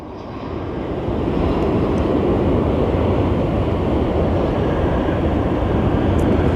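An airplane rolls along the runway at Phoenix Sky Harbor airport, its engine roar swelling in over the first second and then holding loud, close and steady with a broad rumbling hiss.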